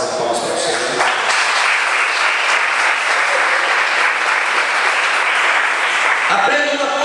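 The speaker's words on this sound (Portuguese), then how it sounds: "Você pode dar uma salva de palmas para o Senhor" A church congregation claps in sustained, loud applause that fills the room from start to finish, a dense wash of hand claps with some voices mixed in underneath.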